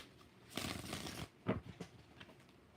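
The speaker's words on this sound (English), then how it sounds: "5 shuffles for Ann." Tarot cards shuffled by hand in a soft burst of riffling lasting under a second, followed by a few quieter flicks and taps of the deck, close and low in level, with no talk.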